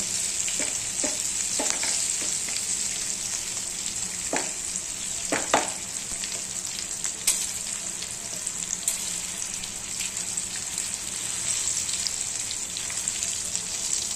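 Green chillies frying in a pan for a Rajasthani dish, giving a steady loud sizzle throughout with occasional clinks and scrapes of stirring, heard up close with no talking.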